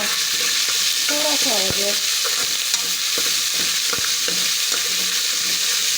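Cumin and carom seeds fry in hot oil in a pan with a loud, steady sizzle, while a spoon scrapes and stirs in clear repeated strokes and a voice speaks briefly.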